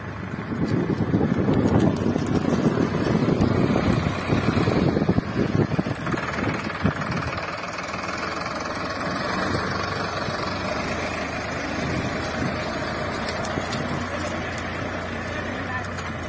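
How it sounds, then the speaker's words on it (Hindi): A new Solis Yanmar tractor pulling a 3MB reversible plow through a field, its engine a steady low drone with wind buffeting the microphone, louder at first then settling to an even hum. "आपको ट्रैक्टर के चाल से पता चल ही रहा होगा कि ट्रैक्टर अभी अच्छे से सेट हो चुका है प्लो के साथ"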